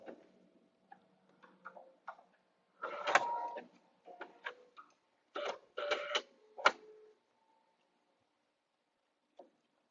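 A sewing machine runs in short bursts while quilting, stitching over its starting point and backstitching. The stop-start mechanical chatter is close and clear, with silent gaps between runs.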